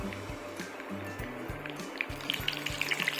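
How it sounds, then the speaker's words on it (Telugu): Cumin, mustard seeds and cut dried red chillies hit hot oil and give a soft sizzle. Sharp crackling pops grow sharper and more frequent toward the end, over a faint low rhythmic hum. "ఆయిల్ వేడెక్కిన తర్వాత జీలకర్ర, కొద్దిగా ఆవాలు, అలాగే 2-3 ఎండుమిర్చి ఇలా కట్ చేసుకొని వేసుకోవాలి"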